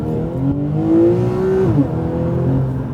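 A ten-year-old 400-horsepower Porsche 911 Targa 4S engine revs up, its pitch climbing steadily as it accelerates off the line, loud and close with no voices.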